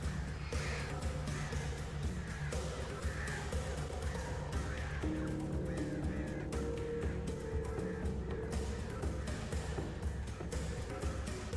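Crows caw in the video game Alan Wake Remastered, their harsh calls layered over a dense, steady bed of game music and ambience that stays loud throughout.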